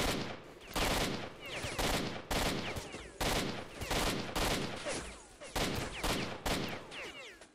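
Gunfire in S.T.A.L.K.E.R. Shadow of Chernobyl, a shooter game: loud, close bursts of rapid shots in quick succession with brief gaps, an almost continuous fusillade throughout.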